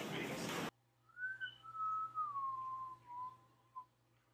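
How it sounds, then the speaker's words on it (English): A person whistles a single wavering, gliding tune after a burst of noise cuts out, the notes sliding slowly downward, close and alone apart from a low background hum. "I was whistling."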